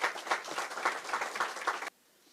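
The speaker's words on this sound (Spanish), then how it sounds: "Dale un aplauso al Rey." Church congregation clapping and applauding during a sermon, a dense, even burst of many hands that cuts off sharply after about two seconds.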